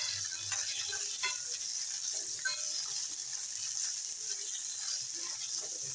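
Paneer pieces sizzle as they fry in hot ghee with cumin in a heated pot, a steady crackling hiss with occasional stirring clinks close by and no one talking.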